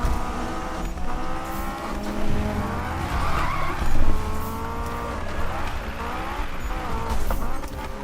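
A car drifts in Need for Speed 2015, played on a Logitech G27 wheel, with sustained tire squeal and skidding over a droning engine, rising and falling in waves across several slides.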